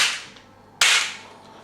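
The hammers of a 12-gauge double-barrel shotgun snap as it is dry-fired with double triggers, two sharp close clicks about eight-tenths of a second apart, each followed by a short ringing decay.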